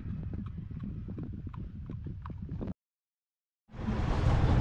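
Horse hooves clip-clopping in a quick rhythmic series during a ride, then a second of silence before a louder burst of broadband noise.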